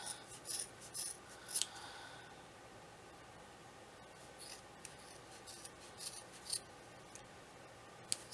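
Scissors snip open the cut string ends of a braided rope for a poi tassel, a handful of quick, crisp close-up cuts in short bursts with quiet gaps between, no voices.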